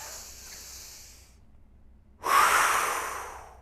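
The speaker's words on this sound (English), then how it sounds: "So I breathe in." A deep breath drawn in through the diaphragm and chest, heard as a close, loud airy inhalation that swells suddenly after a quieter breathy stretch, alone without talk.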